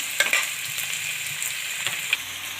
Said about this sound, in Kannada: ನಾವು ಮಸಾಲನ ಎಷ್ಟು ಚೆನ್ನಾಗಿ ಫ್ರೈ ಮಾಡ್ಕೊಳ್ತೀವಿ ಅಷ್ಟು ಟೇಸ್ಟಾಗಿರುತ್ತೆ ಚೆನ್ನಾಗಿ ಫ್ರೈ ಮಾಡ್ಕೊಳ್ಳೋಣ